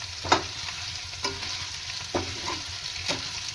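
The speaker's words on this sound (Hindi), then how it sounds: "ये पनीर मेरा फ्राई हो रहा है।" Paneer cubes fry and sizzle in a pan for a home-cooked gravy, with a steady hiss broken by four sharp scraping stirs of a spatula at even intervals.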